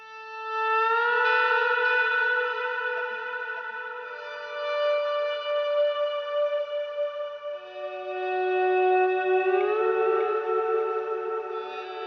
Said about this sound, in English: let's hear the Les Paul.